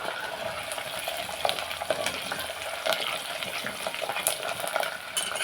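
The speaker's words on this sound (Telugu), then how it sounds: "ఉల్లిపాయ ముక్కలన్నీ ఇందులో వేసుకున్నాం" Chopped onions fry in a pan with a steady hissing sizzle, broken by scattered scraping clicks of stirring, close and fairly loud.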